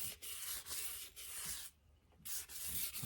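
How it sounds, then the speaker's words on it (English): Close, steady rubbing of 1000-grit sandpaper lightly sanding glaze on a shotgun, in repeated back-and-forth strokes, pausing briefly before the scratchy sanding resumes. "I'm using 1000 grit, and lightly sanding the glaze that's on here."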